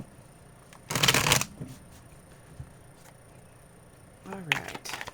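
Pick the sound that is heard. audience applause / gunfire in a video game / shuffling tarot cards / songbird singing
shuffling tarot cards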